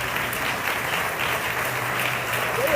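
A crowd applauds marimba performers from the Bellas Artes concert at the Filgua 2025 book fair opening, with loud, sustained clapping that fills the room evenly and a faint voice at the end.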